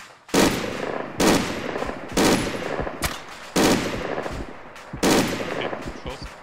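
Bursts of rapid gunfire crack out in six separate volleys at roughly one-second intervals, each sharp and loud with a trailing echo, from the video game ArmA 3.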